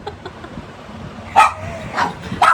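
A pet dog yips and barks a few times, close and fairly loud, short sharp calls in the last second or so after quieter background.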